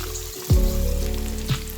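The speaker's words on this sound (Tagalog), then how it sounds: "lalagay na natin tong ating ricado, onion at saka garlic" Onion and garlic hitting a hot pan and sautéing, a sharp close sizzle at the drop that settles into a steady fry, with a second small burst a second later.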